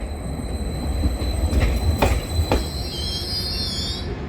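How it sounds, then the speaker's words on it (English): Short passenger train arriving at Darsham station platform on the East Suffolk Line, a steady loud rumble with wheel clacks and a rising, sustained wheel squeal as it nears and slows. "Speaking of, there is a train coming"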